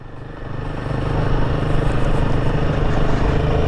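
A Royal Enfield Himalayan 450 motorcycle riding off road, its engine a steady, loud, throbbing drone that builds slightly and then holds close throughout, with no talk.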